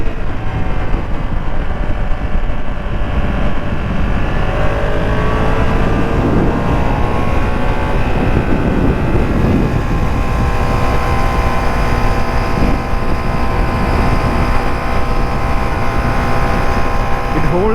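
Ducati Streetfighter V2 motorcycle engine running steadily while riding, a continuous loud drone with shifting harmonics and rising and falling pitch, mixed with wind rush throughout.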